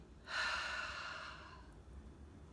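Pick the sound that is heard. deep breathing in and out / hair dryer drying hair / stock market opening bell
deep breathing in and out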